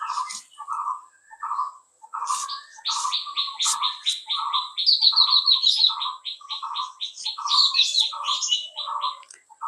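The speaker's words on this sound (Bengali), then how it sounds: "পাখিদের ডাক শুনেছেন" Birds call outdoors: a repeated mid-pitched two-part call at a regular pulse, overlaid by a faster high trilling chatter from another bird, clear and fairly close with no voices.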